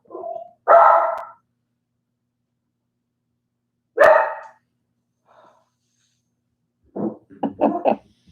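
A dog barking during an online education board meeting, several sharp barks spaced seconds apart with silence between, ending in a quicker run of yips, close and fairly loud.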